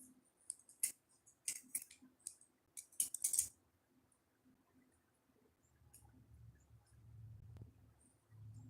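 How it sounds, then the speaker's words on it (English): Scissors snipping away excess cat hair glued onto a card surface, a run of crisp close clicking cuts in quick bursts, then quieter rustling and handling noise. "And then I'll go back and I'll cut, there's the scissors."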